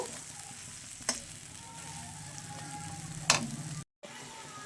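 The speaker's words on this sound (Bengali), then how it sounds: "দেব কাশ্মীরি লঙ্কার গুঁড়ো দিয়ে এবার এটাকে খুব ভালো করে ফ্রাই করে নেব।" Chhana frying in a pan with coriander powder and Kashmiri chili powder, a steady soft sizzle throughout with a couple of sharper clinks from stirring and a brief dropout near the end.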